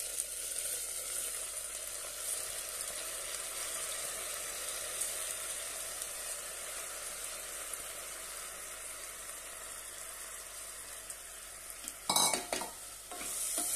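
Washed rice and lentils are stirred into a pan with ginger-garlic paste, a steady soft scraping and sizzle, ending with a few louder clattering stirs.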